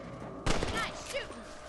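A rifle shot aimed at rabbits in Red Dead Redemption cracks out loudly once and then fades, with voices faintly audible afterward.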